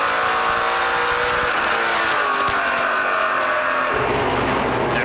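NASCAR Pinty's Series race cars lap the track at the 2018 Rankin 200, their loud engines roaring steadily with shifting pitch as the cars pass, with no talk.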